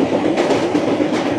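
The Paharia Express rolls along with a loud, steady rumble and faint rhythmic clatter of wheels on the track, heard up close from on board without voices.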